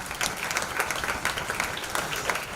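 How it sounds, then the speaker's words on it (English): An audience at a Pune institute event applauds steadily. The clapping is continuous and dense but comes across fairly faint and distant. "Give him a big round of applause."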